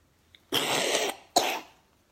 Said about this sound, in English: very common for a poor little guy around this time of year to have a runny nose and cough